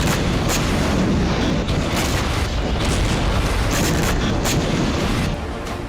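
Hezbollah rockets fire at Israel in a barrage, a dense, loud, continuous roar with repeated booming bursts that holds for several seconds and then eases slightly, with no voices.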